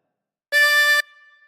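A single sustained reedy chromatic harmonica note drawn on hole 5, bright and steady for about half a second, then a faint lingering tone as it fades.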